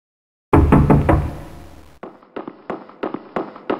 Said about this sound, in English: a knock could sound at his door.